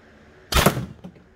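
Single air rifle shot from a Grimburg A5 or TCR A5 barrel test, a sharp, short crack followed by brief mechanical clatter, heard alone in a quiet setting.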